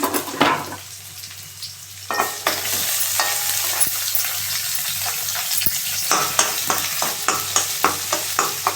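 Chopped onion and green chilli fry in a pan, a quiet sizzle punctuated by sharp spoon clinks and scrapes that grow busier and more rhythmic toward the end.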